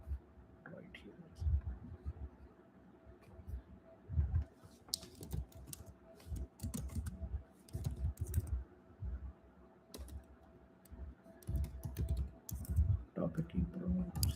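Fingers type on a computer keyboard in quick, uneven clusters of soft clicks and taps, with pauses in between, while a quiet, low voice murmurs along underneath.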